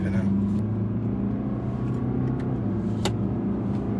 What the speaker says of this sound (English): that engine noise is not that diesel-y